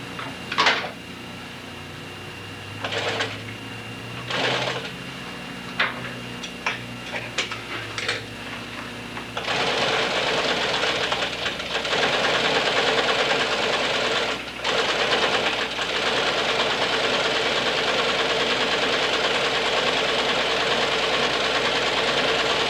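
A sewing machine with a roller foot stitches welting, starting with short separate bursts of whirring, then running continuously in a long steady buzz, close and loud.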